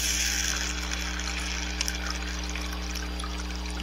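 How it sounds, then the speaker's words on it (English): Water gushes steadily into a Ziploc bag holding about 100,000 Orbeez beads, a loud continuous pouring and splashing close by, with a low pump-like hum underneath. "And I'm gonna let my assistant Ethan pour water in there"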